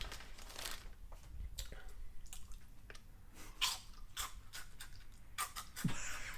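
Crunchy Funyuns onion-ring snack being chewed up close, with irregular crisp crackles and crunches scattered through a quiet background.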